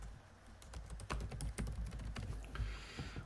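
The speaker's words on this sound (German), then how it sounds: "Die Diagnose können wir entweder über die Tastatur eintippen" Quick irregular clicks of fingers typing on a computer keyboard while entering a diagnosis into medical practice billing software, close and fairly steady over a few seconds with no talking.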